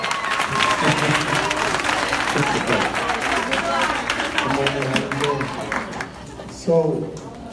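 Applause and hand clapping from people arriving at a Freedom Fighters Chicago chapter meeting, steady and fairly loud throughout with murmuring voices and chatter mixed in, thinning near the end.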